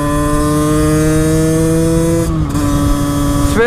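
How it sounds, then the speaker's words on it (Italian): A Kawasaki Z125 motorcycle engine hums loudly and steadily while riding, holding a constant pitch before dropping briefly as if shifting, then pulling again. "Spero non si senta tanto la moto."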